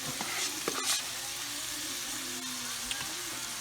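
Pastured steak frying in butter in a pan, a steady faint sizzle with a few soft clinks and scrapes of utensils, no voices.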